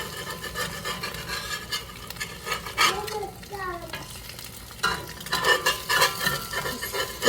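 Eggs frying in a pan at breakfast give a steady sizzle, with scraping and clinking of a utensil against the pan as they are flipped, close and moderately loud, with a brief whistle-like squeak in the middle.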